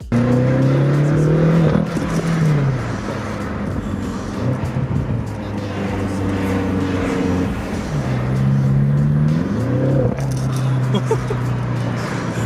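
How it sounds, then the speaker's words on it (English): A BMW F10 M5 revs and downshifts on a city street, its exhaust note climbing and dropping in loud pulls that echo off the surrounding buildings, with people talking over it. "every time Pierre gets on the exhaust or downshifts, it's just the sounds just echo throughout the street"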